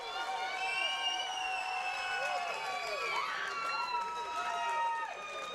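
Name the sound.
crowd cheering for fighter entering at MMA event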